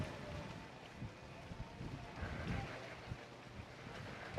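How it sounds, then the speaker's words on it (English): Steady wind gusting outdoors during a yoga class, a continuous low rumble of wind buffeting the microphone with soft surges throughout, no one speaking. "It is quite windy here today, so I'm working with the wind, hopefully."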